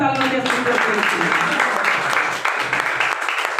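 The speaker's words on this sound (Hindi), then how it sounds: "एक बार जोरदार तालियां दीजिए।" Enthusiastic audience applause at a business gathering, a dense steady roar of many hands clapping close by, sustained throughout with a faint voice underneath.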